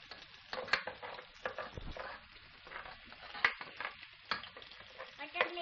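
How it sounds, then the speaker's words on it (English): Garlic and onion frying in a pan for ginisang ampalaya with sotanghon, with irregular scraping and tossing strokes over a low, crackling sizzle, close by and without speech. "I will put the garlic. And then the onion. And then I will gonna mix."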